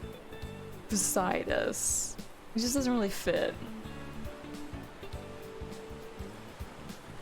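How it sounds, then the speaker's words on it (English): Steady ocean surf and tide ambience from the video game Please Be Happy washes softly in the background while someone talks over it. "I'm not sure if I like the tide coming in and out"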